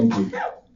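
A single quick, forceful sneeze bursts out close by during a fan convention panel and fades within a second.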